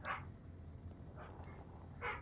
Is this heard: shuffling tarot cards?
no